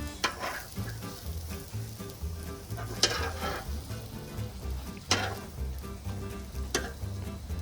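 English breakfast sizzling and frying on a barbecue hotplate: a steady close crackling hiss with a few sharper scraping clatters of a utensil, and no voices.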